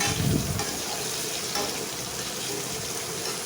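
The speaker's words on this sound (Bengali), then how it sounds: "পেঁয়াজ আর আলুগুলোকে আগে একটু ভেজে নেব" A continuous dense hiss of potatoes and onions frying in hot oil, close and fairly loud, with faint stirring underneath and no voices.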